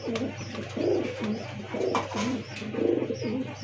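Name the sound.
pigeon cooing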